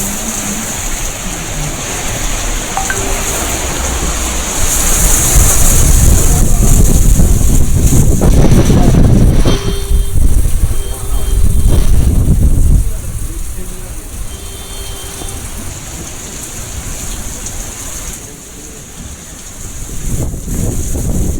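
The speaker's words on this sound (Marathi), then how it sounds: "गारांचा पाऊस पुण्यामध्ये पडलाय" Heavy hail and rain pour down in Pune as a dense, steady roar, buffeted by wind gusts, with a voice talking over it.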